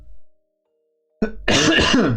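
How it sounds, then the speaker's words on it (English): A single sharp, close cough after a brief silence, followed by a rough, throaty burst like throat clearing. "That's 1 persistent cough."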